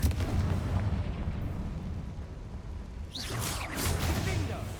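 A Confringo blasting spell detonating in Hogwarts Legacy, with a rumbling explosive boom and crackling bursts over steady battle noise, and a voice calling out spell names amid the combat.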